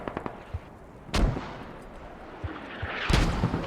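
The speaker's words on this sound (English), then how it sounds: "trying to protect themselves from these mortars" Mortar rounds in the military shooter game Squad land as two heavy, booming impacts a couple of seconds apart, with lighter distant thuds and crackling gunfire scattered around them.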